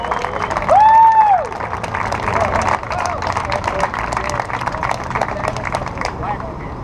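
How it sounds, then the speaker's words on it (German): Crowd at an outdoor peace vigil in Vienna clapping and cheering, a dense wash of applause with scattered shouts and whistles, a brief whistle-like tone near the start, steady and fairly loud throughout. "Und ich würde jetzt sagen, klatscht mal für euch und jubelt für euch."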